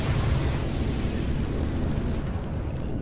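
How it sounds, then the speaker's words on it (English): A dragon breathes fire in Dragon Quest XI, a loud, continuous roaring rush that is thick in the low end and holds steady for about three seconds before easing slightly at the close. "Oh, he's shooting fire."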